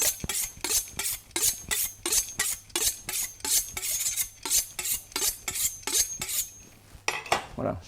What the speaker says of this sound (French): je vais m'assurer que la lame soit bien sûr bien affûtée